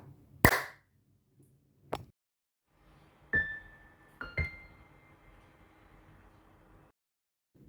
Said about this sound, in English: let's just clap first